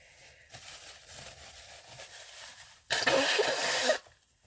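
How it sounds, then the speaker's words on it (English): A short, forceful nose blow bursts out for about a second after a quieter stretch of rustling. "Excuse me while I blow my nose."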